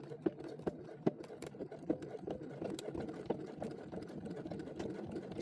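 A sewing machine top stitches a zipper clutch at a 1/8 inch seam allowance, a faint, quick mechanical patter with regular ticks, running alone at low volume.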